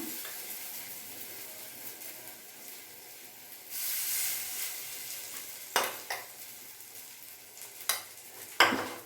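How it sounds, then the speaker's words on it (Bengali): Dal bora (lentil fritters) fry over a medium gas flame in oil already used for frying fish, giving a steady close sizzle that swells briefly, then sharp pops and a few spoon clatters toward the end. "আমি মাছ ভাজার তেলের মধ্যেই ডালের বড়াগুলো করলাম।"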